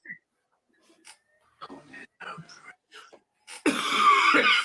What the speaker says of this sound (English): I'm just coughing, you know